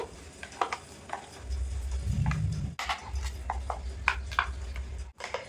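Mango kasundi being stirred with oil in a pan or bowl: a steady run of close, soft knocks and scraping taps from the spoon, uneven in rhythm, with a low rumbling undertone.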